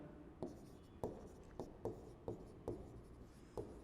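Chalk or marker strokes scratch across a board while an equation for the Gauss divergence theorem is written out, about seven short, evenly spaced strokes, faint and close with no talk over them.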